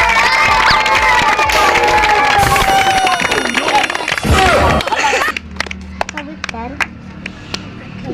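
A street magic show crowd roars and shouts over a talking performer, then thins into scattered sharp claps and a few calls toward the end.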